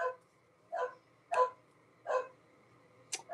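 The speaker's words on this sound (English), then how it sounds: "Well, I hear the dogs." Dogs bark outdoors at a distance, four moderate woofs spaced evenly about every two-thirds of a second, followed by a sharper yip at the end.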